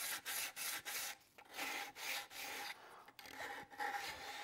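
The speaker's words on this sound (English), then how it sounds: "But I will take some 220 grit or 320 grit sandpaper." Fine 220 or 320 grit sandpaper is rubbed over a cedar bird feeder in quick, close back-and-forth strokes, each a soft, dry rasp separated by brief pauses, with no talking.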